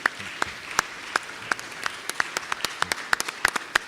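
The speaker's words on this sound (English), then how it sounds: "So if you could applaud really loudly at the end" Audience applause, a light scattering of individual hand claps at moderate distance, steady for a few seconds and fairly faint, with no talking.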